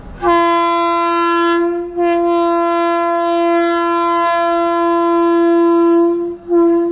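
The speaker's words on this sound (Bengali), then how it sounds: "সামনে দেখুন ট্রেন দাঁড়িয়ে আছে ট্রেন এখন ছেড়ে বেরিয়ে চলে যাবে গয়ার দিকে" A train horn at Dhanbad railway station, sounded by a train standing at the platform before departing toward Gaya: a loud, close, sustained harmonic blast lasting several seconds with two brief breaks.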